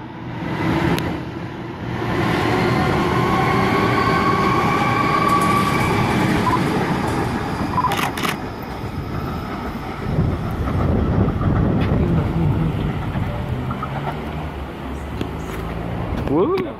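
A Sydney train departs Concord West station with a loud, close rumble and wheel roar that builds and holds, with squeals and rattles as the cars pass. A person talks over it.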